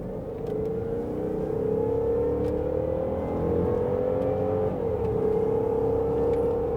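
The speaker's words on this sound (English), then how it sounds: "Very respectable acceleration." A Range Rover L322 accelerates hard with a steady, rising engine drone heard from inside the cabin, the pitch climbing smoothly, dipping briefly at a gear change, then pulling on again.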